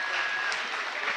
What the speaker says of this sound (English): And there is a big cheer coming up there for 25, Logan West.